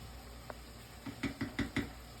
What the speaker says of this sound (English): You gotta stir that up frequently